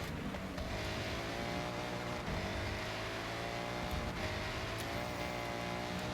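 A Honda NSX driving in Forza Horizon, its engine a steady, loud drone with harmonic lines that rise and fall gently as the car holds speed, continuous with no talk.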